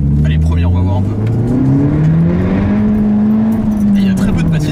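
A Citroën DS3 Performance pulls away hard in first gear, its engine note rising steadily and loudly up the rev range over about five seconds with a voice talking over it.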